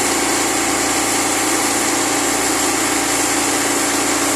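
A steady air conditioner fan motor hum drones on without pause, a constant whirring drone with a broad hiss, close and loud, no voices.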